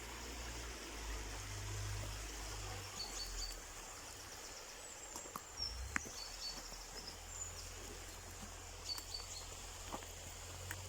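A waterfall in UK woodland of oak, ash and hawthorn gives a steady, soft rushing wash heard from some distance, with faint insect and bird sounds on top and a low rumble of wind or handling.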